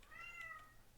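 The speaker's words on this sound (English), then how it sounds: "that's my cat in the back" A single short meow from a house cat somewhere in the background of a room, faint and distant, lasting under a second with no one talking over it.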